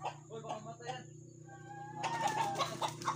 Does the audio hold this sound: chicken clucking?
yes